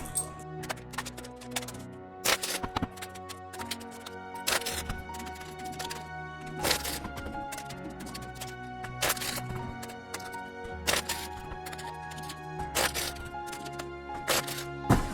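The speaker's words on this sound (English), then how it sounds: "We're going to shuffle right now." A deck of oracle cards is shuffled in repeated quick riffles and snaps over a faint musical background, close and crisp, with the bursts spaced a few seconds apart.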